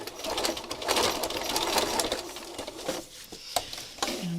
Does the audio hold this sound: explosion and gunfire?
no